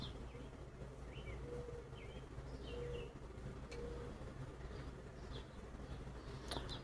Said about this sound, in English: Oh, here comes the bird back.